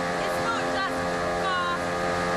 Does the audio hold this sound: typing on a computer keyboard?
no